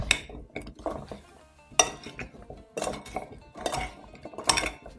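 Turkey tossed with about a tablespoon of poultry seasoning and garlic in a bowl, giving close, uneven clinks and scrapes of a utensil against the dish in several bursts, with no talking.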